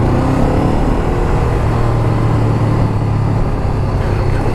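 A steady, loud Honda CB500R motorcycle engine drone holds at a constant idle-like level throughout, with low rumbling and no talking.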